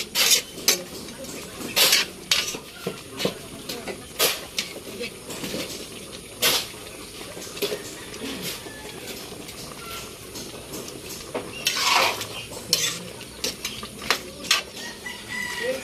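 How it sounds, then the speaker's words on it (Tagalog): A spoon stirs coconut-milk adobo with chili in a cooking pot, making irregular scraping and clanking strokes. A rooster can be heard in the background of a homey outdoor-sounding setting. "Hinalo po siya kasi may lagyan ng sili, hinahalo."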